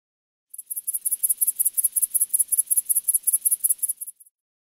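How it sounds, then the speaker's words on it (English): A grasshopper chirps in a fast, even train of high, thin pulses, roughly five per second, steady and clear for nearly four seconds in otherwise silent surroundings. "Grasshopper."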